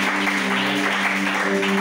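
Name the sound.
church congregation applauding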